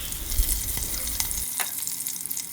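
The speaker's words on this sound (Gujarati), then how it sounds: "અને બધા જ મસાલાને આ રીતે સરસ સાંતળવાના છે" Spices and curry leaves sizzle in hot tempering oil for a Gujarati kadhi, a steady crackling fry with a few sharper pops and stirring sounds, close and alone without talk.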